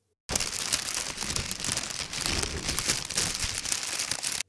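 Baking paper scrunched by hand to imitate fire crackle, starting after a brief pause and continuing as a dense, close stream of crisp crinkling and popping until it stops abruptly, no speech.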